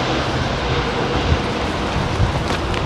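An airliner landing at Heathrow as ground spoilers deploy and brakes are applied, heard as a loud, continuous engine roar and rumbling rollout with a few heavier thumps, without voices.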